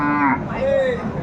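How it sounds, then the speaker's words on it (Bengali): A Sahiwal bull lowing at a cattle market in Dinajpur: a drawn-out, tonal moo rising and bending over about a second, fairly close and loud against a busy market murmur. "বেশ সুন্দর একটি ষাঁড়, এই ক্লাসের গরুটি আমরা দেখছিলাম।"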